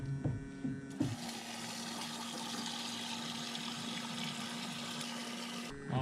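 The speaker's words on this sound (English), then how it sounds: "Oh, we got the water rolling." Water starts running into a basin for washing potatoes, a steady rushing stream with a low hum underneath that carries on for several seconds before shutting off abruptly.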